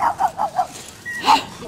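A dog gives four quick, evenly spaced barks at close range, then a short pause and one more bark with a brief whine-like tone, outdoors.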